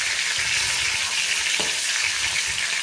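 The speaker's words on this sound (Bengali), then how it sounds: "তো মাছগুলো আমি ভেজে নিচ্ছি, দুটো পিঠই লাল লাল করে ভেজে নেব।" Pieces of rohu fish fry in hot oil, giving a steady, loud, close sizzle with crackling throughout and no voices.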